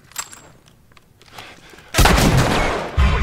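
Gunfire erupts in The Last of Us Remastered: a few faint shots and quiet game ambience, then a loud sustained burst of shooting with a heavy boom near the end, no talk.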